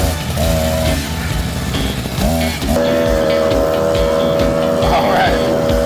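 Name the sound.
mini motorized scrap yard train engine revving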